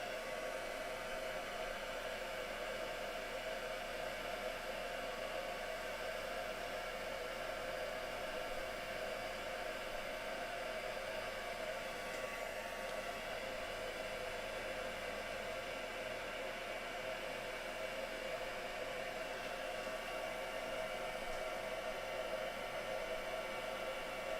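A heat tool blows a steady, loud whirring stream of hot air over embossing paste throughout, an even continuous roar with no talking.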